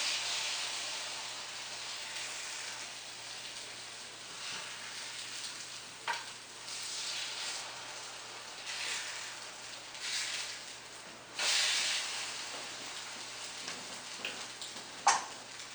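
French toast made from bread dipped in egg, milk and cinnamon, frying in butter in a pan, giving a steady close sizzle and hiss with a few soft clicks and a brief scrape as it cooks.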